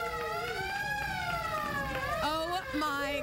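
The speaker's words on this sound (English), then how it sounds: "Oh, and the sirens go off." Sirens wail in sweeping rising and falling tones amid a noisy, crowded scene with people talking loudly underneath.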